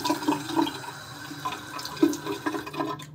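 Hot water from a tap, heated by a geyser, runs steadily in a soft, continuous splashing stream with small spatters, close by and alone.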